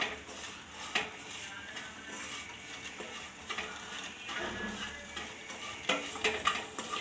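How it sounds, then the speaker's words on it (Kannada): Semolina roasting in ghee in a pan over a low flame, a spoon stirring and scraping steadily with soft sizzling and occasional louder clinks against the metal. "ನೋಡಿ ಈ ರೀತಿ ಚೆನ್ನಾಗಿ ಹುರಿಬೇಕು."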